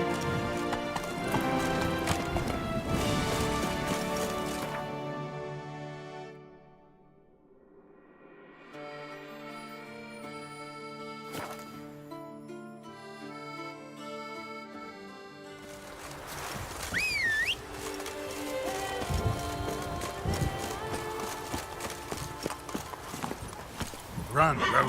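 Roach, a horse in The Witcher 3, gallops with loud, rapid hoofbeats that fade briefly mid-way before picking up again, with a whinny near the end and a voice talking over it.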